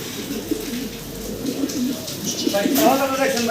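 Domestic pigeons cooing nearby in a loft, soft repeated throaty coos layered over each other, with people talking throughout.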